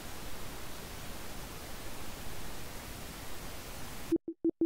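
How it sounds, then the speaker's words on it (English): Steady stereo pink noise from a SuperCollider generator, its level cut by 20 dB, hisses evenly for about four seconds before switching abruptly into short pulsed bursts. "So now it's a stereo pink noise generator, amplitude reduced by 20 decibels."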